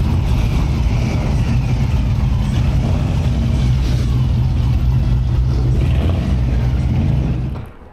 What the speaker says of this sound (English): there's a car show going on, and they're breaking up for the evening and heading home